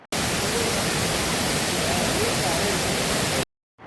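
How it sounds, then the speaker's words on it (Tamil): The Suruli waterfall near Kambam, dropping about 150 feet, roars as a steady, dense wash of falling water that fills the clip and then cuts off abruptly near the end. "அருவிக்கிட்ட வந்து சேர்ந்துட்டோம்"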